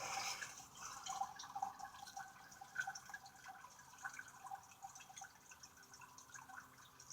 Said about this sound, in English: you hear it dripping